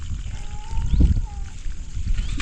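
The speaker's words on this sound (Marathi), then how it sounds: "मी रोपाला पाणी घालून घेते" Water pours from a pot onto eggplant seedlings, splashing in uneven gushes close by, with a louder surge in the middle and low rumbling underneath.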